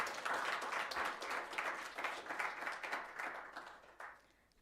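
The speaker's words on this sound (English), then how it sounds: "Can you give Ndata Matlawa a round of applause?" A live audience at a book launch for The Faces and Phases of Inkosi Albert Luthuli bursts into dense, sustained applause for Ndata Matlawa. The clapping stays steady and loud, then thins out and fades toward the end.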